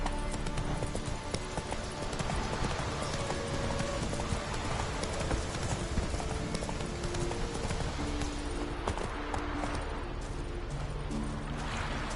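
Roach the horse gallops in The Witcher 3 video game, a continuous rapid clip-clop of hooves that runs steadily throughout at close range, with busy game sound beneath.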